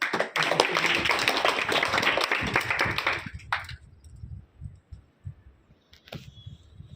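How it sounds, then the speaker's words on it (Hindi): Loud applause from a gathering at a public senior secondary school in Sindhari, Balotra: a thick burst of many clapping hands for about three and a half seconds, then an abrupt stop leaving low, scattered room thumps. "एक बार जोरदार तालियां।"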